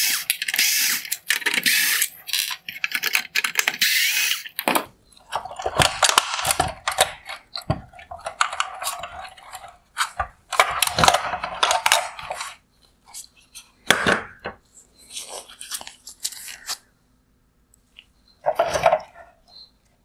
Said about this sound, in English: Next, I will remove the four T20 torque screws holding it on.